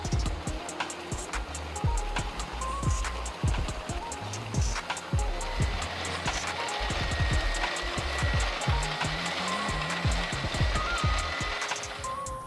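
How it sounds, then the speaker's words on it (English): A wood chipper shreds woody material into chips with a continuous loud grinding roar. Repeated crunching bursts come as pieces are fed through, close by and steady throughout. "machine designed to efficiently process woody material into chips"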